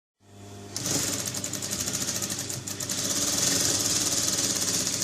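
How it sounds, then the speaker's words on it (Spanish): A sewing machine stitches the corner of a fitted bedsheet, starting up after a brief pause and then running as a fast, even, rattling whir that builds slightly in loudness and carries on alone. "Y vamos a proceder a coserla."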